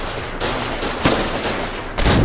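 Continuous rattling gunfire in the video game Foxhole during an assault on a watchtower, dense automatic bursts with several sharper, louder cracks standing out, no voices.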